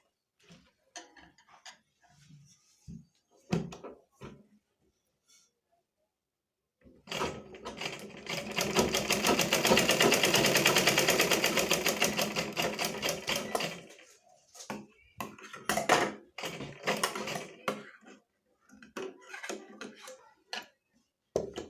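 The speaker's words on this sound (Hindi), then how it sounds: "अब यहाँ पर इस तरह करते हुए दूसरे कट्स पर भी हम इसी तरह सिलाई लगाएंगे" A sewing machine stitches a baby frock in one long continuous run of about seven seconds, loud and close, framed before and after by quieter scattered clicks and handling of the fabric.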